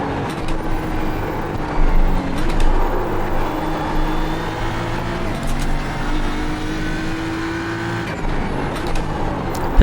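A BMW M4 GT3 race car engine in the iRacing sim at Imola, a loud, steady, close drone that rises and falls through gear changes as the car holds speed, with no voices.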